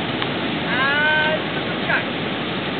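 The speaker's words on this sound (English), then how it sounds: "Skookumchuk Rapids" Rushing water of the Skookumchuk Narrows tidal rapids in British Columbia, a steady broad roar with wind buffeting the microphone and a few faint tonal whistles over it, no talk.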